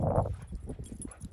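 A dog snorting like a pig outdoors on a walk: a short burst of quick, rough, close snuffling snorts, fading into softer breathy sniffs.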